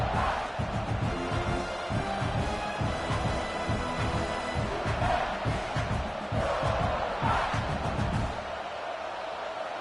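A big stadium crowd roars behind the defense in the NCAA 26 college football video game, a sustained, dense wall of cheering and shouting that swells and surges without pause.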